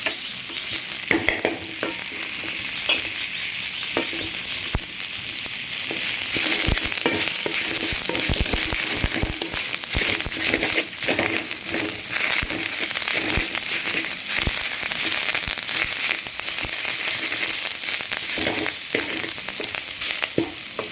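Drumstick leaves fry and are stirred in a hot pan for a thuvaiyal, giving a steady close sizzle with constant scraping and rustling strokes throughout, with no talking.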